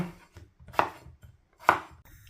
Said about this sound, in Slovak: Nakrájaš zemiaky na varenie.